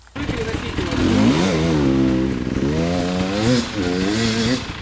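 A Husqvarna enduro motorcycle engine revs up and down close by, its loud buzzing pitch rising and falling several times, with voices faintly in the background.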